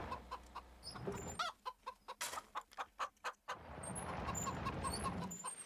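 Chickens cluck in the farming video game Farming Simulator 25, a run of short, sharp clucks in quick succession, fairly close, with soft ambient farm background before and after.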